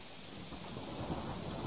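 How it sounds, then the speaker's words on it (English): Thunderstorm rolling in, with steady heavy rain hissing across surfaces and low thunder rumbling underneath, building slightly louder toward the end with no voices. "Two evenings later, a storm blew in."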